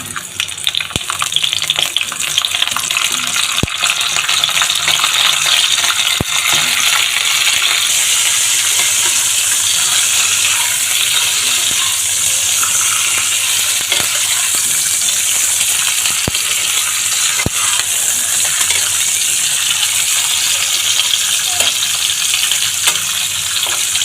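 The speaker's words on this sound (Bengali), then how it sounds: "এখন আমি একটু তেলে ভেজে নেব পটলগুলো, হালকা করে একটু তেলে ভেজে নেব" Pieces of pointed gourd fry in hot oil in a wok, producing a steady, loud, hissing sizzle with faint crackles and occasional sharp pops throughout, with no voices.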